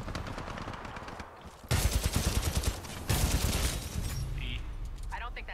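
Rapid bursts of semi-automatic Hammond pistol fire in Titanfall 2, two dense loud volleys of sharp cracks with quieter shots between, while players talk throughout.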